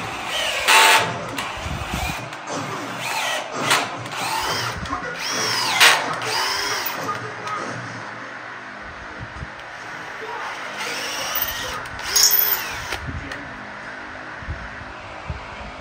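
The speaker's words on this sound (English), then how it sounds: "I did run the thread tap through everything." A power drill drives an 8 mm thread tap through a metal retro mod frame during restoration, whirring in repeated loud bursts separated by pauses, close to the listener.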